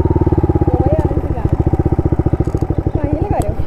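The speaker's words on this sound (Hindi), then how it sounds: "तो भाई यहाँ कर देता हूँ बाइक पार्क।" A motorcycle being parked, its engine idling with a steady close pulsing throb throughout, while people talk over it.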